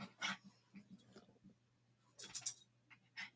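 Dogs whimper and whine indoors in short, faint, intermittent bursts, with light jingling between the cries.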